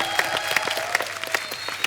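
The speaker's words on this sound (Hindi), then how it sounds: "विष्णुवर्धन जी के लिए एक बार जोरदार ताली हो जाए" A studio audience at a TV comedy talk show claps loudly and steadily for a guest, a dense sustained round of applause with crowd murmur.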